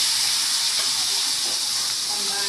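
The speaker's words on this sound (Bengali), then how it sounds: "এখন আলুগুলো একটু ভেজে নেব," Potatoes fry in hot oil with a loud, steady hiss and sizzle that holds evenly throughout, close up and uninterrupted.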